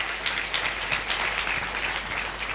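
Church congregation at a Sunday Hindi-language service clapping together, a steady dense wash of hand claps that fills the short stretch without pause and with no voices over it.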